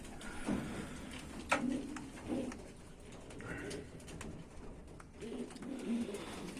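Soft, low pigeon coos repeat a few times over a noisy background, fairly close but not loud.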